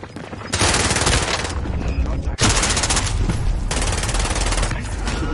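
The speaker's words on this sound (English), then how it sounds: "That fucking shotgun there." Rapid automatic gunfire bursts in the video game Warzone, loud and close, in two long dense volleys with a sharp blast between them.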